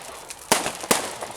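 Fireworks on bonfire night at Whiting Bay, Isle of Arran, two sharp bangs about 0.4 seconds apart, each with a crackling tail, against a faint outdoor background.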